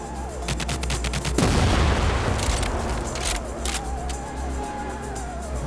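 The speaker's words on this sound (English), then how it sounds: "I like how I'm getting shot through a thing here." Rapid gunfire and bursts of shots in TimeSplitters Rewind, a dense volley of repeated cracks with a loud blast near the middle, then scattered shots continuing close and loud.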